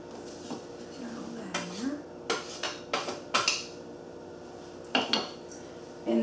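A spoon or whisk clinks and scrapes against a bowl in short irregular bursts while sugar and salt are mixed into dry pie dough ingredients, with a brief voice in the background.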